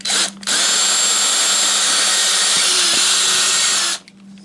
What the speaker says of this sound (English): let's drill a couple of holes in this, 2 on each side